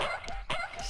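A dog in a Malayalam film scene gives a short burst of close, sharp barks and yips, two or three quick calls within about a second.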